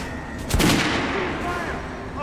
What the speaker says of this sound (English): Head over to my range and try out the guns.